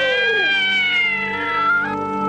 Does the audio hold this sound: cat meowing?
yes